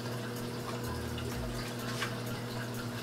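Water running steadily to rinse a probe from a reef aquarium in a lab, a faint continuous splash over a low hum of equipment, with no one talking.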